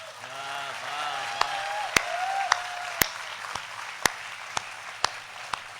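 Audience applauding a Hindi comedy poet at a kavi sammelan, a broad steady wash of clapping with a voice holding a long note above it early on, and sharp isolated claps popping out every half second or so.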